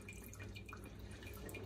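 Water leaking from a water clock falls into a Pyrex container in soft, faint drips that patter quietly and irregularly in a still room.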